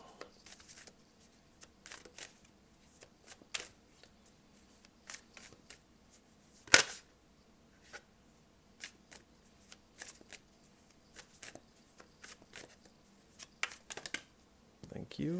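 Tarot cards are shuffled by hand in soft, intermittent riffles and slides, with a sharper snap midway, while a voice speaks quietly in the background.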